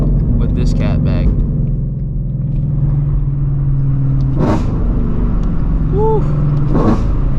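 A Shelby GT350 Mustang with long tube headers and a stock catback rumbles at steady idle, then blips sharply twice with crisp revs, engine noise filling the background while a voice calls out briefly.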